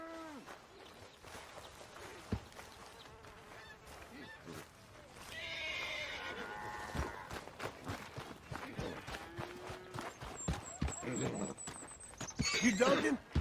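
A horse whinnies and hooves clip-clop in Red Dead Redemption 2, fairly faint beneath background game sounds, with music-like tones and people talking.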